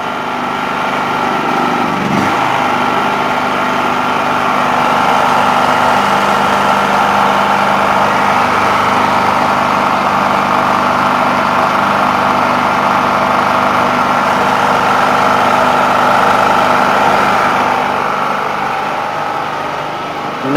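A small portable generator engine runs steadily up close, a loud, even mechanical drone holding the same pitch throughout with no talking.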